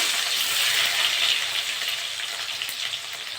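Onions frying in hot mustard oil with cumin seeds in a wok, a loud steady sizzle heard up close with no talking.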